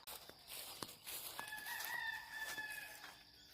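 A rooster crows once on a Hawaii farm during morning chores. The call is a single drawn-out crow that sounds faint and somewhat distant, with no talking.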